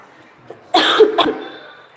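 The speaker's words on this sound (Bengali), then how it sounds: "কাশি হচ্ছে" A person sick with a fever, in a hospital, coughs in a loud, close burst of two rough coughs in quick succession, followed by a short breathy tail, with quiet room tone before and after.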